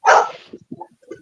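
A single loud, close dog bark at the start, followed by a few softer yips and whimpers as the sound fades.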